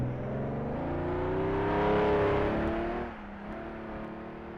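A 3-litre race car on the Isle of Man time trial course accelerates hard toward the finish line, its engine climbing in pitch through the gears, loud and close, then easing to a steadier drone as it pulls away.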